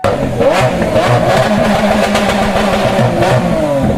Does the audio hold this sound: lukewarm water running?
no